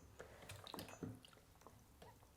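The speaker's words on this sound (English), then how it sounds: "Now we're going to drain this water" Water draining out of a bath used to clean a Newtonian telescope mirror, with soft close trickles, drips and gurgles, fairly quiet and without talk.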